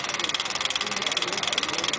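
A small Meccano model engine runs steadily at high revs with a fast, even buzzing pulse, close by and continuous, like a model aircraft motor.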